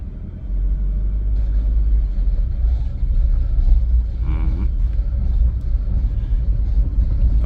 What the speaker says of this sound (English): this is the first test drive